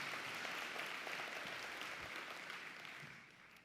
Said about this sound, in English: y'all better clap for that.